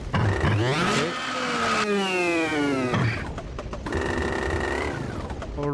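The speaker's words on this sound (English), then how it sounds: "Okay, so the shifter cart is actually quicker around here." Shifter kart engine in the Automobilista 2 racing game, loud and continuous, revving up and down in repeated rising and falling sweeps through the gears, with no talking.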